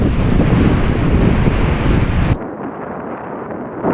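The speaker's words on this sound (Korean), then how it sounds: "여기는 진짜 바람 소리, 파도 소리, 그리고 나뭇잎 스치는 소리, 이거밖에 안 들려요" Ocean surf and strong wind on a beach at Puerto Madryn, Argentina: loud, roaring wash and wind buffeting that cut sharply to a much quieter hiss about two-thirds of the way through.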